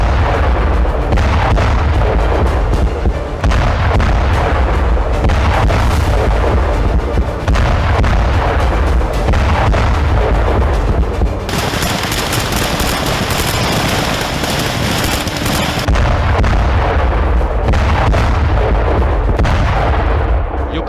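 Explosions and artillery fire from Russian air strikes in Ukraine form a loud, dense, continuous barrage of booms and rumbling blasts with no pauses, and a harsher, brighter burst in the middle.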